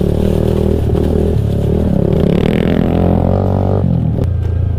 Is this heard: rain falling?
no